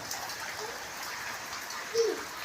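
Dense, steady monsoon rainfall in Gujarat hisses continuously at close range, with a brief faint vocal sound briefly rising above it near the end.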